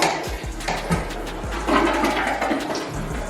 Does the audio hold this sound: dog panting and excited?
no